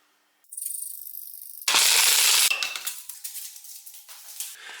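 A ratchet wrench clicks in quick bursts while loosening bolts to take off a wheel during a belt job, close and fairly loud, then rattling more irregularly.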